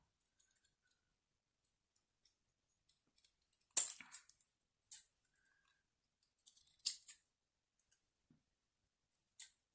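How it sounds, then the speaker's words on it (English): Scissors snip through paper in a few short, crisp bursts separated by quiet pauses, close and clear with no talking. "Just get your scissors out."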